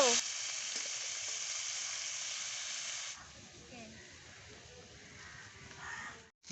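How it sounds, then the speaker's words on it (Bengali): Shrimp frying in oil with a strong sizzle that softens halfway as the pan is stirred, while a voice talks quietly in the background. "এখন আমি নেড়ে চেড়ে মাছগুলোকে ভালো করে ভেজে নেব"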